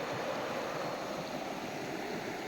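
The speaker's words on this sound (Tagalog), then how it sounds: "dito kami sa ilog na malaki" A large river flows past in a constant, rushing wash of water, steady and fairly close with no voices.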